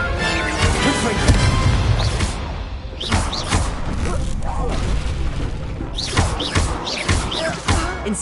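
Confringo fire-blast spells going off in Hogwarts Legacy combat, a string of loud booming impacts and crashes repeating every second or two amid spell-casting effects, with a voice calling spells over the clatter.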